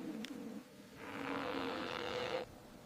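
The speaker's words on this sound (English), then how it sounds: "The snowy owls are hooting in the snow." A snowy owl gives a soft, low, breathy hoot, a single drawn-out call heard faintly over a quiet background.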